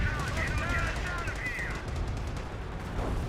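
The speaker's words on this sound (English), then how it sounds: "Here comes another rocket barrage." Rocket barrage in the World War II strategy game Company of Heroes, a dense run of rapid repeated blasts and whooshing streaks rolling on steadily for a few seconds, loud and continuous under faint background voices.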